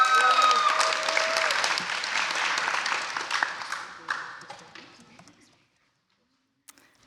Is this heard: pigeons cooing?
no